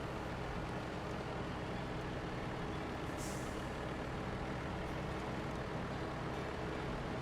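A SnowRunner truck backing up, with a steady loud engine drone and road rumble and a brief hiss partway through, which continues unbroken with no voices.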